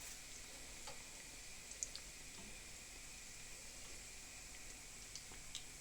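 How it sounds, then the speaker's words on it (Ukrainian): Cherry-filled doughnuts fry in hot oil, giving a steady, even sizzle with faint scattered pops and ticks. The sound is quiet and continuous, with no talking over it. "Я все-таки покажу, на якому огні вони смажуться."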